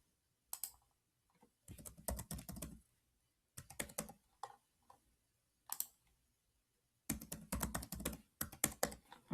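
Bursts of rapid keystrokes on a computer keyboard as a database password is entered, close and crisp clicking in several short runs separated by silent pauses.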